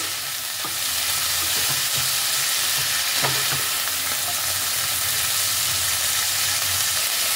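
Onion and capsicum sauté in a pan with a little oil, giving a steady close sizzle with occasional stirring scrapes and clicks throughout.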